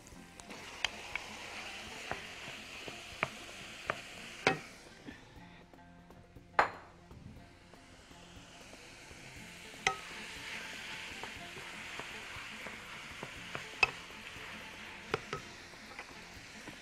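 Chopped onion and minced meat fry in a hot pan with a soft continuous sizzle, punctuated by sharp pings and clinks of a spoon stirring against the metal, close and fairly quiet.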